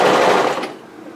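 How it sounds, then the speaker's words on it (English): A sewing machine stitches a seam on a spliced cowl neck top in a brief, close, loud whirring burst that slows and fades after about half a second. "So just when you're ready, sew that together."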